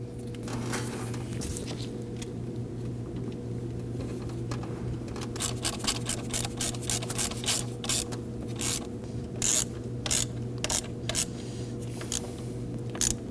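Hardware bolts are tightened with a ratchet on a 3.5L V6 engine in a 2009-2014 Ford F-150, heard as a quick run of close, rhythmic ratcheting clicks over a steady background hum. No one speaks.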